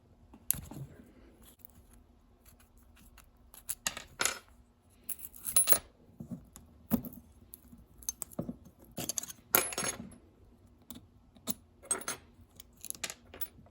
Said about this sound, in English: Now we got the pulleys. Go ahead and pop them off.